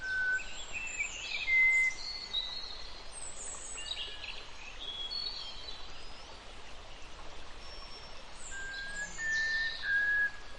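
Birds sing in jungle near Nameri National Park in Assam, scattered distant chirps and whistles rising over a soft steady stream-like hiss, faint and intermittent across the whole stretch.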